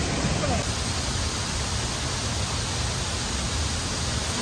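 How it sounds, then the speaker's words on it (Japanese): Uodome Falls in Aomori Prefecture, Japan, rushing with a steady, dense broadband roar that holds unchanged throughout, close and fairly loud, with no voices over it. "魚止めの滝だっていうの？"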